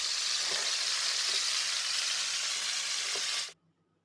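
Brazilian beef churrasco steak skewers sizzling as they cook, a loud, steady, close frying hiss with a few faint clicks, cutting off abruptly near the end into silence.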